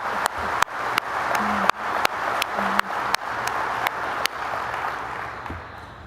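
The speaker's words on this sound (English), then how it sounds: "Let's give this gentleman one more round of applause." Audience applause at an annual meeting and dinner, a steady broadband wash of clapping from a seated crowd that holds for several seconds and thins toward the end, punctuated by a few sharp clicks.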